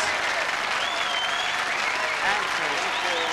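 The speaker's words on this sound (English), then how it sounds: "and big applause," Dense, steady applause from a crowd fills the whole stretch, with faint voices buried underneath.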